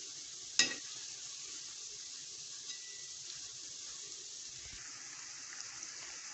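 Badam balusha frying in oil, a faint steady hiss of bubbling oil with one sharp knock near the start and a few soft clinks, no voices.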